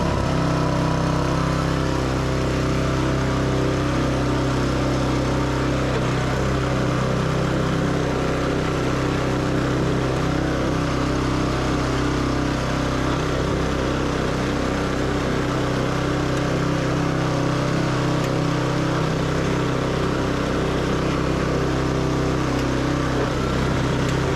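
A Yamaha YS624T snowblower engine held at full throttle, a loud, steady, buzzing drone close by that stays constant throughout with no pauses.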